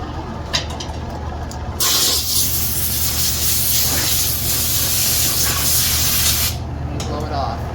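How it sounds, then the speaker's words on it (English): An air compressor runs in a workshop, its low steady hum underneath a long, loud burst of hissing air lasting several seconds, with quieter hum before and after. "Excuse the compressor running in the background"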